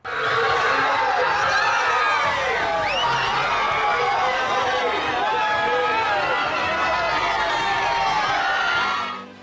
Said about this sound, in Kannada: ಶಿಳ್ಳೆ ಚಪ್ಪಾಳೆ ಜೈಕಾರ ಅಬ್ಬಬ್ಬ